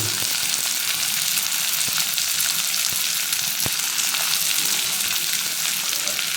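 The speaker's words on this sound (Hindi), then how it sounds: "प्याज को करते हैं बढ़िया से लाल होने तक फ्राई" Finely chopped onion frying with bay leaf in a pan for egg curry, making a loud, even, continuous sizzle with a few sharp taps of stirring.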